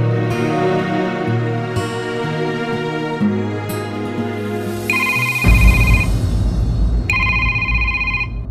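A telephone ringtone trills in two clear, repeated bursts indoors at home, cutting over background music that fades out before the ringing starts.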